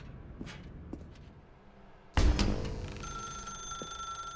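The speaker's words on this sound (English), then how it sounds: "Now pick up the phone." A telephone in a dark room in The Stanley Parable Ultra Deluxe begins ringing after quiet footsteps. It starts with a sudden loud burst, then settles into a sustained ringing tone.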